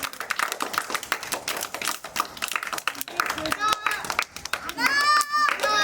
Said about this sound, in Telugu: అందరు క్లాప్స్ కొట్టాలి.